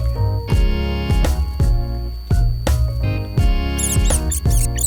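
A rat squeaks in a series of loud, sharp, high-pitched squeals with short pauses between them over several seconds, close up and heard alone.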